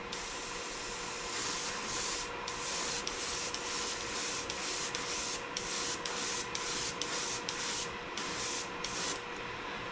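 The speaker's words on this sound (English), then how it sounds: "Alright, let's spray them up. Alright, I'm going to use my Pache Talon." A Pache Talon spray gun with a 6.6 tip lays base coat on a homemade emblem, giving a steady, close airy hiss that breaks into repeated short bursts as the trigger is pulled and released, with no talking.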